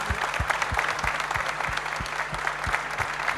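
An audience at a heating and plumbing installers' trophy award ceremony claps steadily throughout, a dense, loud wash of applause from a full room.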